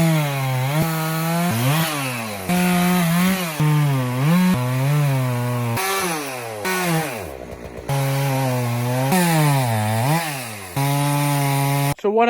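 A chainsaw cuts firewood rounds at a wood pile. The loud engine whines and revs up and down as each cut bites, with several short pauses between cuts, close and continuous for the whole stretch.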